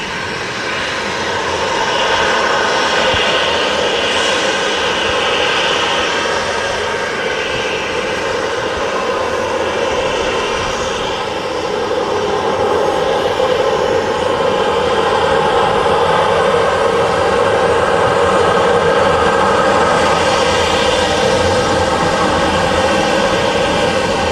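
An airliner at Manchester Airport spools up its engines to get moving, a loud, steady, close roar with a broad whine that holds and builds slightly throughout.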